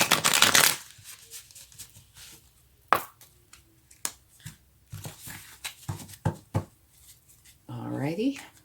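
Tarot cards shuffled by hand: a dense riffling burst at the start, then scattered taps, slaps and card snaps spread through the clip, with a brief voice-like sound near the end.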